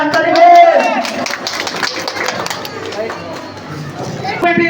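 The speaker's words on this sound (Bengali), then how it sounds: "সবাই মিলে হাতের তালি দিয়ে সহযোগ করবেন" An audience claps hands together at a Facebook meetup, a dense, continuous patter of many hands running throughout, mixed with crowd noise and a loud voice speaking over it near the start and end.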